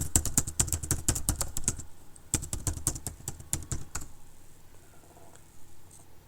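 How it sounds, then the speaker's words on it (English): A login being typed on a computer keyboard, a rapid run of crisp key clicks for about four seconds, then a short pause and a few faint taps, close and alone. "So I'm just typing here the demo login."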